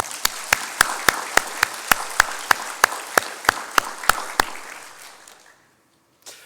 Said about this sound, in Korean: 우리 하나님께 감사와 찬양의 박수를 올리겠습니다